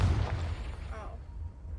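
A Confringo fire spell bursts in a Harry Potter video game, a heavy low boom at the start that rumbles and fades over about a second and a half, with faint background activity.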